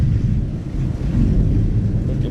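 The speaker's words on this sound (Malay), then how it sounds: "Sekarang ni ribut gila kuat." A strong storm wind at a kelong fishing platform at sea buffets the microphone, making a loud, low, rumbling roar that gusts unevenly throughout, with no talk.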